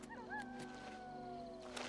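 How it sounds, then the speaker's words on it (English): A dog howls in the video game Oblivion Remastered, a drawn-out, slowly falling howl of moderate loudness that rises in pitch at the start, over a low steady game ambience with a couple of soft knocks. "I hear puppy dog."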